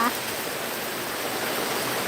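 Steady hiss of rain falling, even and moderately faint, continuing without pause; a voice is briefly audible at the very start.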